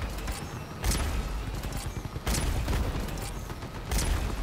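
Gunfire in the vehicle combat game Crossout, quiet repeated bursts recurring about every one and a half seconds over a low mechanical rumble.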